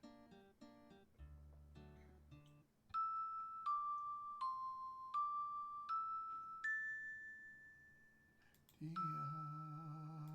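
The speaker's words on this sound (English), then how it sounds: "let's go ring the doorbell here. I have to pull the rope, I think." A rope-pulled doorbell in the video game Quest for Glory IV rings out as a run of clear, decaying chime tones in a descending-then-rising melody after a few low plucked notes, with no talk.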